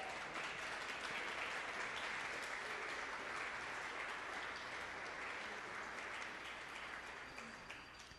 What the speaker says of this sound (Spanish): ¿Le podemos dar un aplauso a nuestro Señor Jesús?